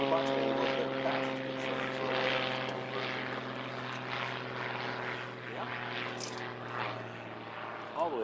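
A propeller-driven aerobatic airplane exits a hammerhead at an aerobatic competition, its engine a steady droning hum heard from a distance with a slowly shifting pitch, while faint voices talk beneath it.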